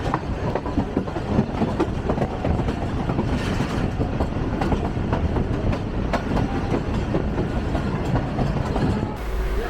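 A train rolls across the historic Lansdowne rail bridge at Rohri near Sukkur, loud and close, with a dense rumble and repeated clickety-clack of wheels over rail joints that continues steadily throughout.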